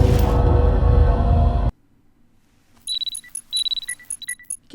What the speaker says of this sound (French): Elle se met des alarmes pour sortir les poubelles